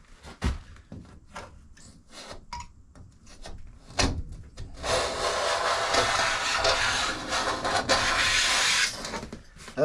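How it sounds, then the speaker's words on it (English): Improvised razor-blade scraper on an old window frame, with scattered taps and knocks, then a sustained close, raspy scraping for several seconds. "I'm going to give you a little demonstration on my improvised scraper."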